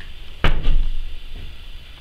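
In a decaying, rotten old house, a single sharp knock or thud from a wooden door is followed by a short creak and low room noise.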